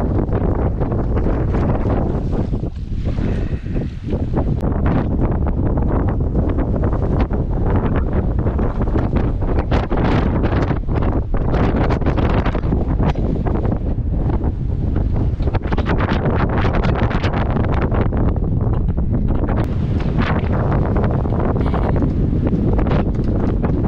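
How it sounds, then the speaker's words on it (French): Strong, relentless wind gusts batter an exposed anchorage, roaring loudly and continuously into the microphone with brief lulls and surges. "nous sommes bien exposés, de belles rafales"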